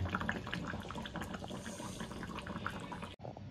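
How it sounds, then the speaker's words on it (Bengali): Steamed chicken cooked with prawn paste being poured from a pan into a bowl, a wet, sloppy sliding and splashing of sauce at close range, continuing steadily before stopping abruptly near the end. "আর একটা পাত্রে ঢেলে নেব"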